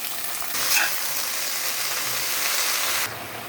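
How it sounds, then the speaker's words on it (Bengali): Water spinach greens dropped into a pan of garlic and onion frying in oil, a loud dense hiss that swells briefly as they go in, then holds steady before easing off. "পেঁয়াজটা ভাজা ভাজা হয়ে গেছে, এবার আমি শাক দিয়ে দিচ্ছি"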